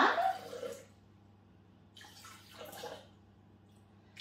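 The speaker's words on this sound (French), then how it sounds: "On va mettre maintenant le vinaigre de cidre. 80 g." About 80 g of cider vinegar is poured into a homemade barbecue sauce. A brief close liquid pour comes first, then two fainter splashy trickles follow after a quiet pause.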